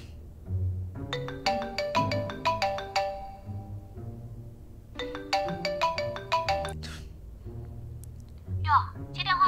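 A mobile phone ringtone plays a bright, repeating melodic phrase twice with a short pause between, close and clear in a quiet room, followed by a brief higher chirp at the end.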